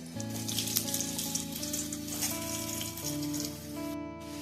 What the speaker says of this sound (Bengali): তেলটা গরম হলে হয়ে গেছে, এবার আমি আলুগুলো প্রথমে ভেজে নেব।